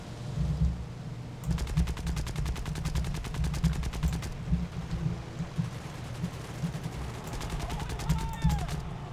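Machine gun fire from an early fighter plane in the War Thunder video game, coming in long rapid bursts over a steady engine drone.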